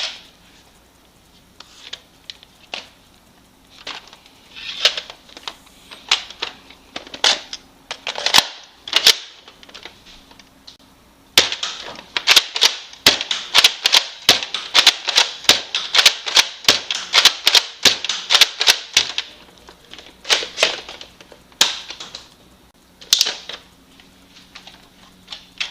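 A Nerf N-Strike Elite Longshot CS-6 blaster with its front gun attached fires darts in quick, sharp snaps, a steady stream of crisp plastic clicks and pops that thickens into a rapid flurry midway.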